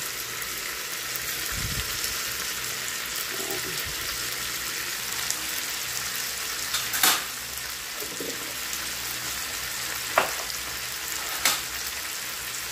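Sautéed shrimp paste (bagoong) frying with string beans in a pan gives a low, steady sizzle with a few sharp clinks and knocks of the pan, and no talk over it.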